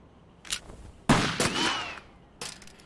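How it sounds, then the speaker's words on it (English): Gunfire in the Yakuza 3 video game: a few sharp bursts of shots, one loud cluster in the middle and fainter reports before and after, with no talk over them. "Daigo's gonna shoot him"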